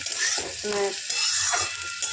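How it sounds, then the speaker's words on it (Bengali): Vegetables with capsicum sizzle and fry in a pan while being stirred, a steady broadband hiss with scraping strokes of the spatula, close and fairly loud, with no talking. "বন্ধুরা দেখুন, সবজিটা আমার কত সুন্দর ভাজা হয়ে গেছে"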